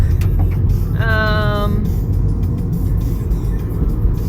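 A car drives along a road near a rocky area, with a steady low engine and road rumble throughout and a brief harmonic horn-like tone partway through.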